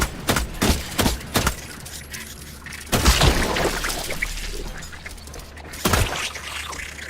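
Gunfire in a survival video game: several sharp, loud shots in quick succession, followed by a few more spaced reports and one last shot, with a rumbling background between them.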